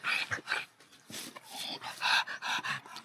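Winston, a dog catching his breath after exertion, pants in quick bursts and lets out high whimpers and yips close by, in irregular clusters with short gaps.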